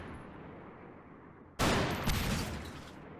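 A burner rifle firing explosive ammunition into a reinforced wall in the Goobstation space station game: quiet background hum, then a sudden loud blast with a second impact and a fading rumble.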